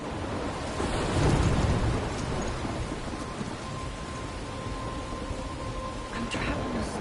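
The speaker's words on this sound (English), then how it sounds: "I'm trapped in a storm?" Steady heavy rain with rolling thunder during a storm in the video game Life Is Strange, a dense wash of noise swelling loudest early on and continuing throughout.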